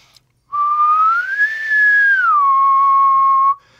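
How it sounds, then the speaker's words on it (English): A person whistles one clear, nearly pure tone for about three seconds. The pitch rises, holds high, then slides back down and ends cleanly, with no background noise. "A whistle is almost a perfect sine wave."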